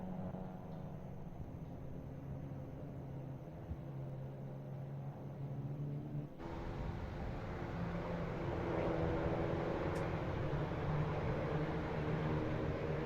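Renault Clio Cup race cars battling and overtaking in the midfield at Slovakia Ring, a steady broad engine roar that thickens and grows louder midway as cars close in, with no voices.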